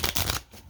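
A deck of trading cards is shuffled up close, giving two or three quick riffling bursts of crisp flutter that stop abruptly and fade into quiet.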